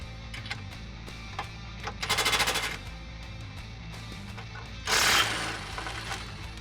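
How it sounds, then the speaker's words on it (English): An impact wrench with an 18mm deep socket rattles off nuts from the frame rail studs of a Jeep Wrangler JL, two loud short bursts of rapid hammering separated by quieter workshop background, with no talk. "I'm gonna be removing these two nuts with an 18mm deep socket and my impact wrench."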